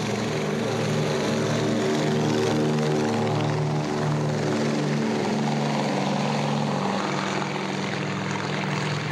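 A Consolidated PBY Catalina seaplane from the 1930s flying a demonstration, its piston engines giving a loud, steady droning roar with pulsing harmonics that shift gently in pitch as it passes.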